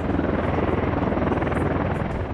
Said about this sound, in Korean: 헬기들이 민간인 마을 상공으로 쉴 새 없이 날아다닙니다.